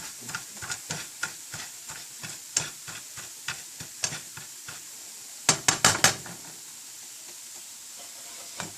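Cumin and coriander seeds splutter in hot oil, a run of sharp crackling pops at an uneven rhythm, with a quick louder cluster of bursts toward the end before the popping eases off under a light sizzle.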